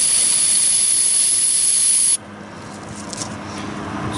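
An aerosol can of carburetor cleaner sprays a loud, steady hiss into the float bowl of a 2018 Hawk 250 Chinese enduro dirt bike for about two seconds, then cuts off, leaving faint rustling and handling noise.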